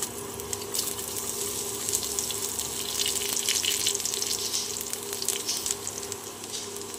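Chopped garlic fries in hot oil for aloo chokha, giving a continuous, fairly loud crackling sizzle that stays steady throughout with no voices.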